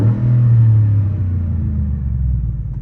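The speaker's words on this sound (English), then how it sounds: "Got some burbles in there." A first-generation Ford Raptor with the 6.2-liter V8 idles loud and close in a deep steady rumble, a brief rev swelling early then settling back into a low burbling idle.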